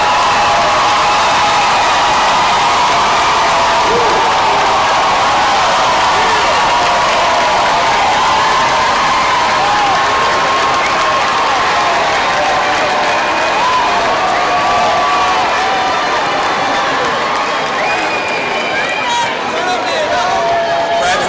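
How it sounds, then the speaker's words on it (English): Commencement crowd applauding and cheering the graduating class of 2016, a dense sustained roar of clapping with whoops and babble filling the hall throughout. "Let us applaud the achievements of the outstanding class of 2016."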